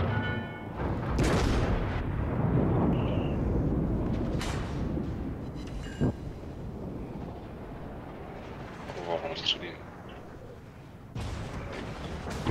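Naval guns fire in World of Warships, with the Bretagne battleship in play: heavy booming blasts and rumbling shell impacts roll through a dense, noisy battle soundscape, with several sharp reports standing out near the middle and end.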